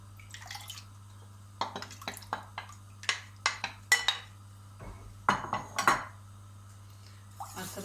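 Spoon scraping and clinking against a pot while bulgur and green lentil soup with yogurt is stirred, a run of close, irregular metallic taps and scrapes over a steady low hum.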